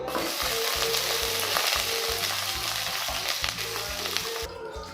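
Onion fries in oil in a pan while a spoon stirs, a dense continuous sizzle up close with rhythmic scraping strokes underneath, loud throughout and no voices.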